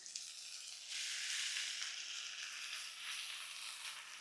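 Washed amaranth leaves tossed into sautéed onion, with a continuous hissing sizzle that swells after the first second and stays steady and close, no voices.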